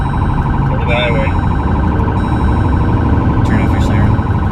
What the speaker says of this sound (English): Turn off your siren